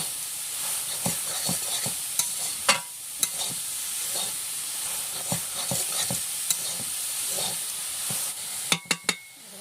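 Khesari greens fry with a constant hiss in a pan as a spatula stirs them, scraping and tapping at irregular intervals, with a few sharp knocks near the end, close by and without talk.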